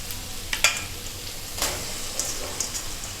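Cleaned chicken pieces sizzle as they fry in sautéed masala for chicken chukka, with steady frying noise and a few sharp scrapes and clinks of stirring spaced through it.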